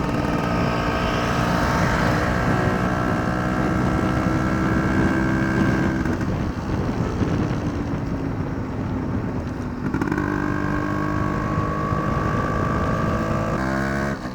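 A Yamaha RX100 two-stroke motorcycle idles and revs steadily close by, its exhaust droning loud and continuous with small shifts in pitch, and no talking.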